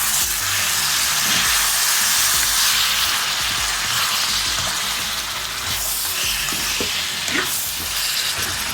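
Large onion pieces frying in a pan over high heat, a loud continuous sizzle and hiss with occasional crackles, close and steady throughout.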